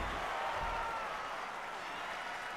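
A WWE 2K25 arena crowd cheers for Nikki Bella, a dense, steady wash of applause and crowd roar at moderate level.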